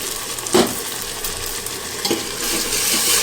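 Tomato puree goes into golden-brown onions frying in a pan for Amritsari aloo badi sabzi, giving a steady close sizzle with a sharp splash and stir around the half-second mark and another stir later, no voices.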